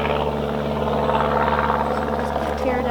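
A steady, droning small airplane engine fills the whole moment, loud and constant as it passes overhead during a beehive inspection, with no pauses.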